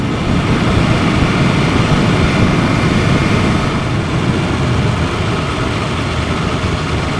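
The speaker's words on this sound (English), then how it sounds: "Yeah, the engine's awesome" A BMW S1000 RR motorcycle engine runs steadily and loudly close by, a dense, even drone with no break or rise for the whole stretch and no voices over it.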